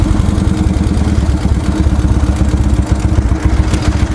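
A 1950s BMW R68 motorcycle idles steadily at a traffic light, its engine giving off a loud, close, even low-pitched chugging with a light mechanical clatter and no talk over it.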